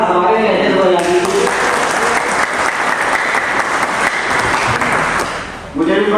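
Audience clapping at a rural media workshop in Siddharthnagar, loud and sustained for several seconds. The applause rises in the middle and dips near the end, with a voice talking at the start and again as it fades.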